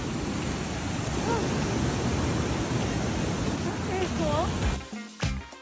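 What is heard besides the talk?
waterfall in Colorado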